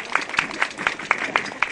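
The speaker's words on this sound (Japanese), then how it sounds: "4人にもう一度大きな拍手をお願いします" A small audience claps for a four-member Ground Self-Defense Force band at a garrison anniversary event, the applause faint and thin, with sparse claps in a loose, irregular rhythm.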